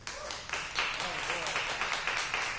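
An audience at a Connecticut roast battle comedy show claps dense and steady, a broad wash of hand claps filling the room, voting for a comedian.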